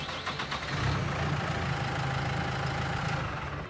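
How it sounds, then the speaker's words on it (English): A John Deere 5E tractor engine in Farming Simulator idles with a low, even rumble and a constant mechanical hum, holding level throughout with no voices. "Let me turn that engine over."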